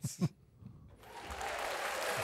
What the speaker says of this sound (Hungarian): Most kérünk egy tapsot.